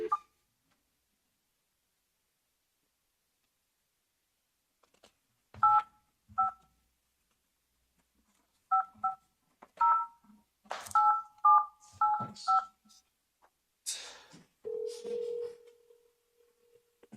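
Several short bursts of touch-tone dialing beeps as a phone number is keyed in, separated by quiet pauses, followed by a longer ringing-type tone near the end; close and clear in an otherwise quiet room.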